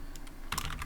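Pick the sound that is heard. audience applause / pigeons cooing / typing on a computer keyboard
typing on a computer keyboard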